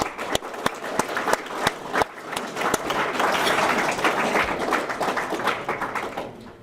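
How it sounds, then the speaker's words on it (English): At a pathway graduation celebration, a few sharp, separate claps open, then thicken into a fuller round of applause from a gathered audience, moderately loud and without talk. "Just give yourself a round of applause for that"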